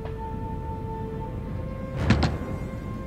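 A few quick knocks land on a door in the Heavy Rain video game, a short sharp cluster of raps against a low steady hum and background tone.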